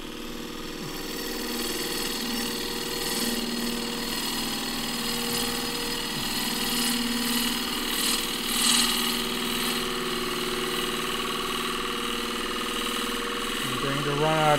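A wood lathe turns a thin ash bowl as a 3/8 deep fluted bowl gouge cuts into it, giving a steady hum with a scraping, hissing cut on top. Someone talks over the sound now and then.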